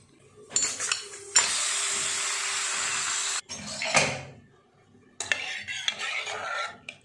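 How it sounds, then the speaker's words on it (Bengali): Sliced pumpkin being tossed with salt and turmeric for frying, heard as brisk scraping and stirring in a few separate bursts of a couple of seconds each, close by, with short pauses and no talking. "নুন হলুদ মিশিয়ে নেব কুমড়ো ভাজার জন্য।"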